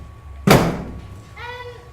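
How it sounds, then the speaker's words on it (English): A door is shut with a single solid thud, close and fairly loud, followed by a brief fading rattle and a few faint tonal squeaks. "Shut the door."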